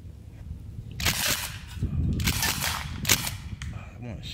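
A Sig Sauer MPX .177 pellet rifle fires a quick string of sharp snapping shots in bursts, fairly close, with metallic pings from a target between them.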